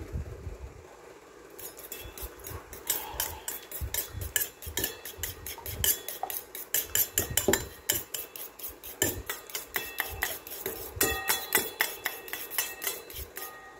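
Utensils clink and scrape against a bowl while a mango and kani salad is tossed, a rapid run of close, bright clatters that grows busier and keeps a steady rhythm with no talking.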